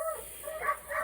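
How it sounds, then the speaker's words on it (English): Several dogs, one of them a hound, yip and bark faintly in the background of an outdoor garden, with soft intermittent calls rising over steady ambient noise. "You can hear my sister's dogs in the background."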